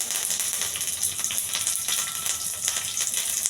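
Curry leaves crackle and sizzle in a little hot oil, a dense bright spattering hiss, close and steady throughout.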